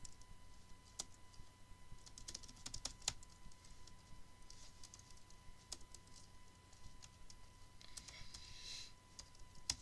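Quiet clicks of keys being struck on a computer keyboard while an email address is entered for a new user account, an uneven run of light taps with short pauses and no talking.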